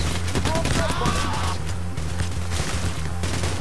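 Video game gunfire from Payday The Heist, a dense sustained barrage of rapid shots over a low rumbling game soundtrack, loud and continuous throughout.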